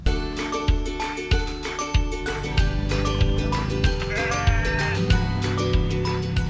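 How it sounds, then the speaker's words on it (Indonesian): Several sheep bleat repeatedly, close and loud, over a rhythmic, percussive backing of music. "kami ikut mengantarkan domba-domba ini"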